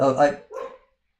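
A dog barks nearby in two short, loud bursts, the second slightly softer, heard during a casual just-chatting livestream.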